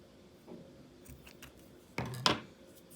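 Scissors cutting material while making a crochet rabbit hair clip: a couple of soft snips early, then two sharp, close cuts in quick succession near the end against a quiet background, with no talking.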